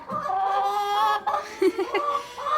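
Several chickens cluck and murmur close by in the snow, their warbling calls overlapping in a continuous stream with a few sharper squawks.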